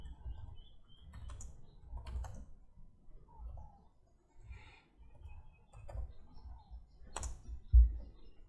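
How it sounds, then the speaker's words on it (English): Computer keyboard typing while composing an email, sparse clusters of soft keystrokes in short bursts with pauses between, near and fairly quiet, with a louder click near the end. "Type in the email address of the receiver, type in the subject and also the body."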